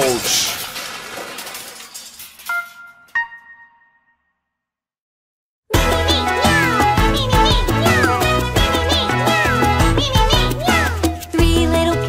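Kitten meows sound briefly amid a cheerful children's nursery rhyme song, with a short pause before bright, busy music resumes at full level.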